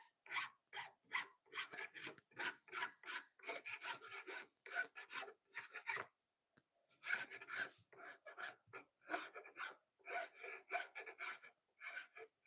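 Hand sanding with sandpaper in a workshop makes quick, rhythmic rasping strokes in steady bursts, with a short pause midway before the back-and-forth rubbing resumes.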